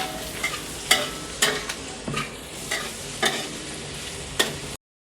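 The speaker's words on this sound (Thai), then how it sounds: "เราใส่แครอทตามลงไปเลยนะครับ ผัดให้เข้ากันนะครับ" Carrots are stir-fried into a pork and tomato spaghetti sauce, a soft continuous sizzle with periodic scraping strokes of a spatula against the pan, close and alone without speech.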